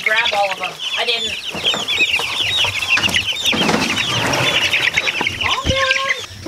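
Several chickens cluck and squawk close by in a busy, overlapping chorus, with rustling and faint background noise throughout.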